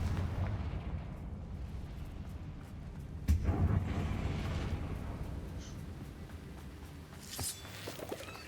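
Confringo fire spell cast in the Hogwarts Legacy video game, a sudden sharp burst followed by a low rumbling whoosh that fades over several seconds, with another smaller flare near the end.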